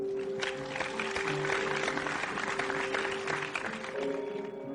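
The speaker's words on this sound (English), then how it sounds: "Actually, I think it was more of a heavy splashing sound" Heavy splashing rain effect: a dense, steady hiss of crashing droplets at constant loudness throughout, with a faint tonal hum underneath and no voices.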